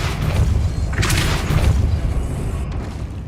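A Depulso force spell cast in Hogwarts Legacy, heard as a heavy, loud booming blast with a burst of bright crackle near the middle over a constant low rumble of game ambience, with no talking.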